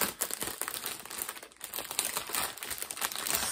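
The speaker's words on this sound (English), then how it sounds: "Sorry about the crinkling." Packaging from a new craft kit crinkles and crackles up close, continuous irregular rustling with sharp bursts throughout.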